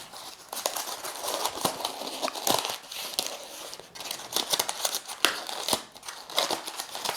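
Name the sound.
unwrapping protective paper from gift box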